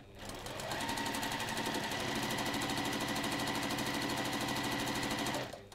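A sewing machine runs steadily while chain piecing fabric, its rapid even needle chatter close and loud for about five seconds before stopping, with no talk.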